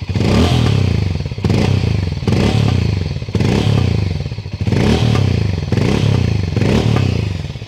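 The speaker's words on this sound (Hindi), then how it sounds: "ये इंजन का साउंड है" A 2024 Hero Mavrick 440 motorcycle engine runs loud and close, its deep thumping idle swelling in repeated revs roughly every second or so.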